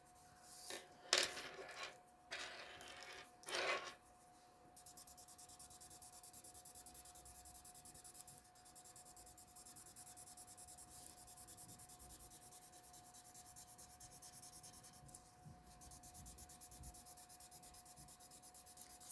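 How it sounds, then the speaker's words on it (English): A pencil draws on paper with several close, scratchy strokes in the first few seconds, then falls quiet, leaving only a faint steady hum. "It's a lot easier turning the paper than it is turning the pencil."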